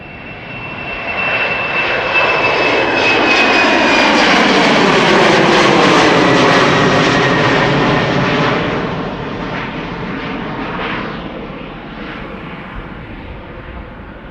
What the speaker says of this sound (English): up next KLM flight 7971 going to London City, Embraer 190